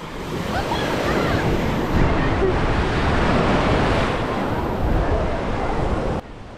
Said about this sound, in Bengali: এবার ঢেউটা আসছে দেখো।